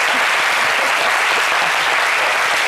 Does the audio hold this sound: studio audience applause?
yes